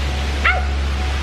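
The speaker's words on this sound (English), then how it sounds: "We found a bunch of dogs" A single short dog yip rises faintly over a steady low hum of background noise in a park in Amsterdam, brief and somewhat distant.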